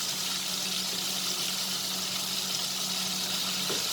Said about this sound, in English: we are just going to turn the prawns so that it gets cooked properly